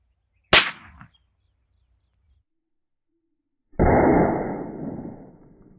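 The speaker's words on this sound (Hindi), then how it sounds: "अभी गाइस दो बीड़ी बम की ट्राई करते हैं।" Two bidi bomb firecrackers blow up on a small motor: a sharp crack with brief crackle, then after a few seconds of silence a second loud burst that trails off in a rushing, hissing decay.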